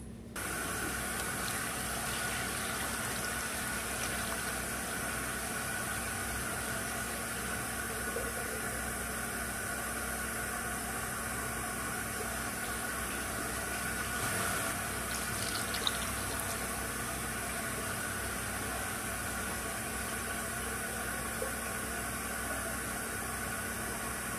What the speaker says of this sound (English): So now let's add some water to our beans.